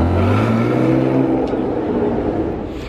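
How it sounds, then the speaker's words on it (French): Aston Martin Vanquish Zagato V12 engine cranking and firing up, then revving with a loud, deep, close roar that eases off toward the end. "Le démarreur des V12, c'est quelque chose."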